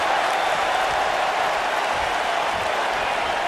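An arena crowd cheers in the WWE 2K19 wrestling game during a women's Royal Rumble match, a dense continuous roar of voices and applause that holds steady throughout, with no clear words.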